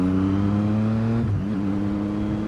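A motorcycle rolls at low revs through slow, congested traffic, its engine giving a steady, close, low hum with a brief dip partway through before settling back.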